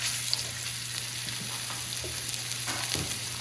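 Tenderloins sear in a hot pan with a little oil, a continuous crackling sizzle with scattered pops under a faint steady hum.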